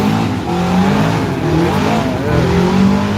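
A Monte Carlo car roars at a dragstrip, its engine loud and close in a sustained, steady rumble with no pauses.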